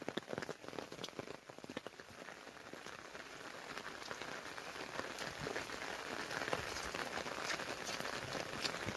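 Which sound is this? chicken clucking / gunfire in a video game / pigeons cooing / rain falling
rain falling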